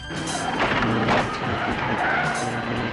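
KITT, the Knight Rider car, accelerates hard with its tires skidding: a loud, continuous engine roar mixed with squealing rubber that surges over about three seconds.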